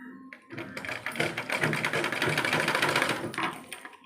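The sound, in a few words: sewing machine stitching blouse neck straight without folding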